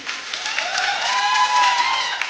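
Applause from the studio audience at a TV dance show's grand opening ceremony, a dense wash of clapping that swells slightly in the middle and stays fairly loud throughout.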